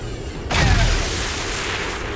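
A single heavy gunshot boom in the XCOM 2 video game bursts in loud and close, followed by a lingering rumbling decay.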